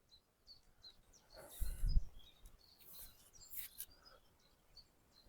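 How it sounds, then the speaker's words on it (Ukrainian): Birds chirp and sing in scattered short calls in a quiet forest, with a brief rustle partway through. "Можете почути, як гарно пташки співають."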